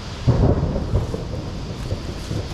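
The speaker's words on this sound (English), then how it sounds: "And I believe that thunder there is my signal to cut this short" Thunder rumbles over a July Georgia garden during a drought and heatwave, a loud, rolling low boom that swells early and then trails off into a steady, grumbling rumble, with no talking.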